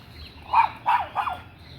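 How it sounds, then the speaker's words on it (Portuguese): A dog barks three times in quick succession at passing cars on a roadside, moderately close, the sharp yelps standing out over a quiet outdoor background. "Ela fica latindo com os carros tá nem aí, coitada."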